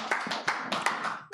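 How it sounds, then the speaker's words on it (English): Scattered handclaps from a small audience at a poetry reading during a book and community celebration: a brief, sparse burst of about half a dozen distinct claps, fairly close. "Round of applause."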